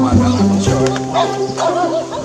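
A dog barks a few times close by, with people talking over and around the barks.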